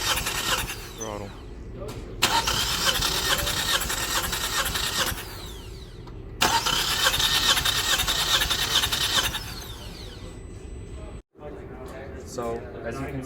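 A car engine cranks on the starter with no throttle during a compression test, two long whirring cranking bursts of several seconds each, loud and close, with people talking between them.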